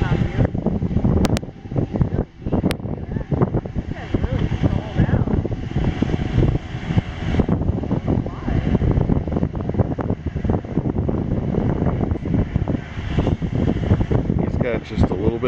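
Strong wind buffets the microphone on a sailboat during a regatta, a continuous loud roar with water wash underneath and brief voices breaking through.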